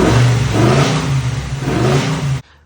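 A 6.0 LS V8 engine swapped into a Pontiac G8 revs hard and close for a couple of seconds, its throaty note rising and falling before cutting off abruptly.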